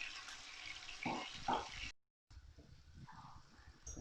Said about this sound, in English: so you add the water, the stock for the rice